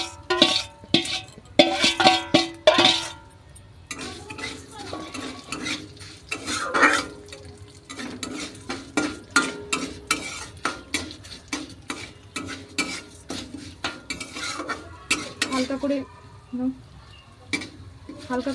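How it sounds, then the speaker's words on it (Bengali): A spoon stirs fried moong dal in a pan, scraping and knocking against the metal in repeated uneven clinks over a faint sizzle, with a voice speaking at times. "হালকা করে ভেজে নেওয়ার পর দেখো, ডালটা দিয়ে দিয়েছি, খুব ভালোভাবে মিশে গেছে।"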